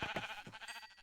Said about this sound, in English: I just like killing sheep